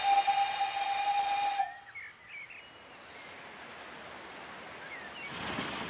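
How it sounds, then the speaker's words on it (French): Steam train whistle in the Ardèche valley between Tournon-sur-Rhône and Lamastre, one loud sustained blast for about a second and a half, then hissing steam and faint chirps in quiet open air. "Ce sifflet, c'est celui d'un train à vapeur"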